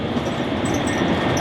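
A passenger train running on the line to Rimini in Italy gives a steady, loud rumble heard from on board, with no talking.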